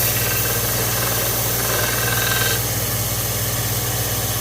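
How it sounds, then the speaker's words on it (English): A belt sander grinds a wooden tool handle with a steady, loud droning hum that holds constant throughout, no voices. "let the sander do the job it's supposed to"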